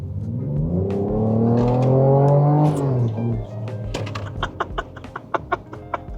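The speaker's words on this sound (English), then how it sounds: "That's the sound of the Ford Ranger Raptor V6," A 2025 Ford Ranger Raptor V6 with a valved exhaust revving up loudly in a rising, throaty drone, then dropping off into a string of sharp crackles and pops.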